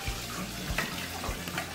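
Water drained from a pan of cut potatoes being prepared for frying, a steady rushing pour with splashing near a sink, close and fairly loud throughout.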